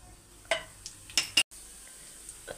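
Chopped onion drops into hot oil with cloves, cinnamon, green cardamom and black pepper in a pressure cooker, giving a few sharp clattering hits and brief sizzles over a low steady hiss.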